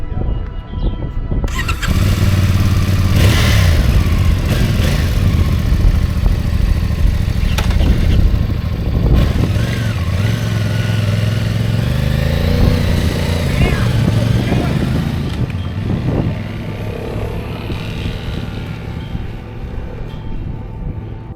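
A Honda CRF 300L dual-sport motorcycle engine turns over, catches and revs steadily for about twenty seconds, loud and close, with some talking underneath.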